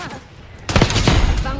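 Gunfire from a first-person shooter game with pistols and rifles: a quiet lead-in, then a loud burst of several rapid, close shots with faint talk in the background.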